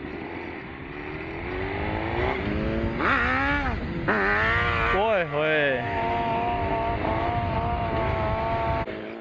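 A Suzuki Hayabusa motorcycle engine revs hard several times, rising and falling throttle blips over a running idle, loud and close, with a man's brief exclamation.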